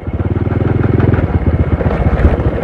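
A motorcycle engine thrums steadily and close as it rides along an unpaved dirt road through a quiet Malay village, with a pulsing, slightly uneven chug that stays loud the whole way and no talk over it.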